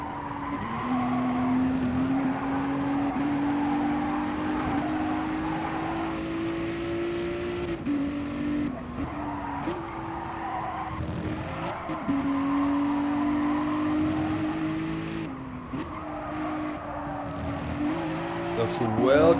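A race car in GT Sport running a flying qualifying lap in an online Nations Cup, its engine droning steadily with rising and falling pitch through gear changes, brief tyre squeal at points, under continuous commentary.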